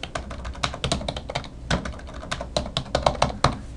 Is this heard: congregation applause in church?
no